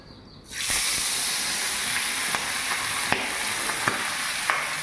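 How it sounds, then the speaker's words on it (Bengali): Fish frying one by one in hot oil: a loud hissing sizzle erupts suddenly after a quiet moment and then holds steady, dotted with sharp spitting pops. "আমি মাছগুলো একে একে ভেজে নিচ্ছি"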